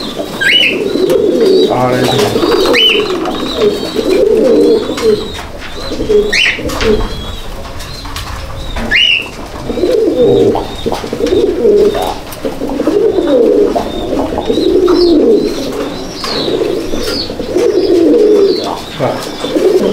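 Holland Jacobin fancy pigeons in a loft coo in repeated low, throaty bursts, close and loud, with higher chirps scattered over them and a voice heard briefly.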